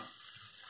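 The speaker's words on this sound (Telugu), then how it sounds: "వీటన్నింటిని వేసి బాగా వేగేటట్టు చూసుకోవాలి" Ingredients for prawn curry, including tomato, fry in a pan with a steady soft sizzle, ending in a brief louder scrape or stir.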